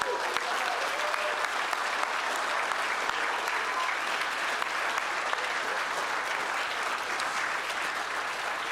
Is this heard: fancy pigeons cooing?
no